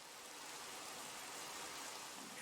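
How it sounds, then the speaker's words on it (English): Rain falling in the video game Minecraft, a steady, fairly quiet broadband hiss of pattering drops that holds constant throughout with no talking. "it's not nighttime yet, but it's raining."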